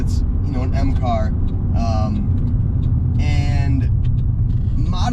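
A 1988 BMW Alpina B3 2.7 E30 drives along with a steady engine drone and road rumble throughout, while a person talks over it from inside the cabin.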